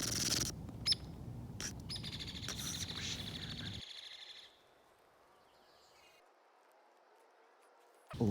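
Outdoor birdsong with a rapid machine-gun-like trill, several bird calls chirping over steady background noise for about four seconds, then near silence before a brief burst at the end.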